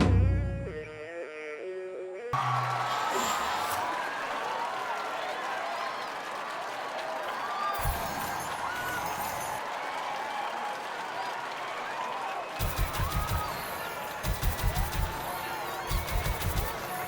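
A crowd at a band concert in the video game Rock Band 4 gives sustained applause and cheering, loud and steady, with a short musical burst at the start and thumping beats near the end.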